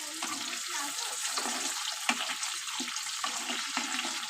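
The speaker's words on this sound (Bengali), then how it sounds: "এখন আমি শিমগুলো ভেজে নিই।" Flat beans sizzle and crackle in hot oil in a pan as they fry for Bengali shukto, a steady close hiss broken by occasional sharper pops and stirring scrapes.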